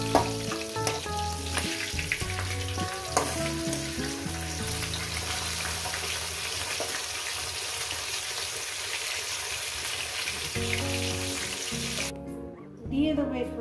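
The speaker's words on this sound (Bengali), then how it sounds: "দিয়ে দেবো এখানে তেজপাতা, গোটা জিরে, কয়েক সেকেন্ড ভেজে নেব।" Bay leaf and whole cumin seeds frying in hot oil in a pan where a fish head has just been fried, a steady sizzle with stirring and scraping that runs throughout and drops away near the end.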